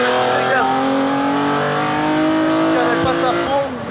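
A classic race car at full throttle on the Mugello circuit roars with a loud, sustained engine note that climbs steadily, then shifts and drops briefly near the end, heard close from onboard.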